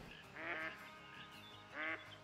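Mallard ducks quack in the Call of the Wild hunting game, two loud bursts of rapid nasal calls rising over a steady outdoor ambience.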